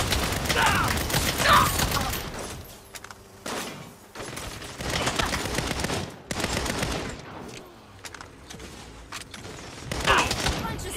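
Bursts of cannon fire and gunfire in the video game Saints Row, several loud clustered volleys with gaps of quieter clatter between them and a final burst near the end.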